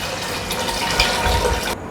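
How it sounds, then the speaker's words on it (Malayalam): Three cups of water poured into a pressure cooker for sweet pongal, a close, steady splashing gush that runs for under two seconds with nothing else heard. "ഇനി ഇതിലേക്കൊരു 3 കപ്പ് വെള്ളം,"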